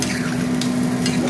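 Frying fish curry masala sizzles and hisses steadily in a pan with a faint stirring scrape as water goes in, one continuous close, moderately loud crackle with a low steady hum underneath.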